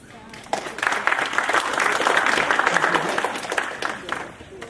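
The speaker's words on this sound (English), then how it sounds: "We're going to give a round of applause." An audience at a resume-writing talk applauds the speaker as she is introduced; moderate clapping builds quickly, holds for a few seconds and tapers off.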